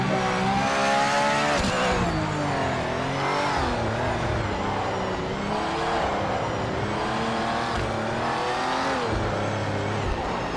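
A Porsche race car engine in the racing video game Project Motor Racing revs hard and continuously, its pitch climbing and dropping through gear changes, with bursts of tire squeal and skidding along the way.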